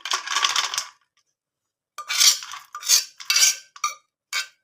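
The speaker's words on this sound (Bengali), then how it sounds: "এই থালার মধ্যে আমি ডালটা ঢেলে নিচ্ছি" Boiled lentils (dal) poured from a pot onto a plate, with a burst of metallic scraping and clatter, a pause, then several shorter scrapes and clinks close by.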